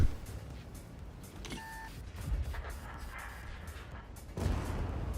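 World of Tanks-style tank combat with a Leopard 1: a muffled cannon penetrating hit thumps, a short electronic beep sounds, and another heavy boom lands a few seconds later over rumbling engine noise.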